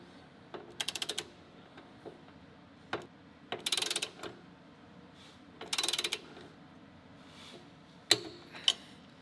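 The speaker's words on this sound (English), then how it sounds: "we grab our torque wrench, we put this in place here, get our wrench set up, and then we just start turning." A torque wrench being turned on an Audi B8 S4 part, giving short clusters of rapid ratcheting clicks spaced by pauses, close and fairly quiet.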